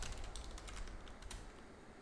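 Soft, rapid keystrokes on an unfamiliar computer keyboard, faint and close, with a flurry of clicks that fades into quiet.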